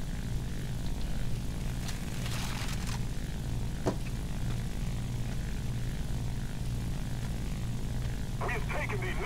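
A propeller warplane engine hums steadily in War Thunder on a merchant fleet map, a low continuous drone with occasional sharp clicks and bursts, while someone talks over it.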